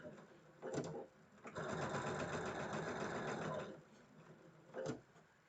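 A sewing machine stitches quilt block rows in a quiet room, short bursts framing a longer steady whir of needle running, fairly faint.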